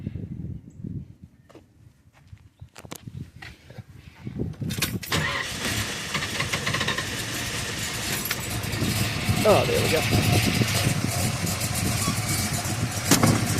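A 1970 Boss 302 with a solid-lifter cam and stock mufflers cranks over and catches, then settles into a steady, fairly quiet idle close by, with someone speaking briefly over the start.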